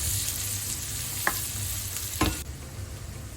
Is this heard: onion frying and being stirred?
yes